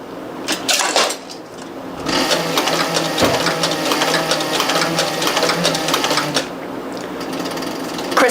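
A leather sewing machine stitches a square corner in bursts, its rapid mechanical chatter running steadily for several seconds, pausing briefly with a clunk of the foot and needle positioning, then resuming close and loud.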